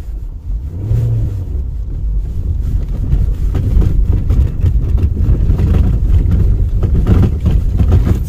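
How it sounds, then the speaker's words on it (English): A car rolls along a gravel road toward the Keilir volcano in Iceland's earthquake zone, tyres crunching and engine droning steadily and loudly throughout, with wind buffeting the microphone and no voices. "It's gravel road."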